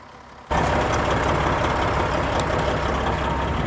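A truck engine catches after a jump start from a battery pack, jumping abruptly from near silence into a loud, close, steady running roar that holds without any talk.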